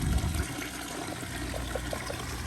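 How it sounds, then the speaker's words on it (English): Water pours steadily into an outdoor fish pond holding Oscars, a continuous splashing trickle with a brief louder gush at the start, close to the microphone and with no talking. "I like how the water pours out, because it kind of aerates the water"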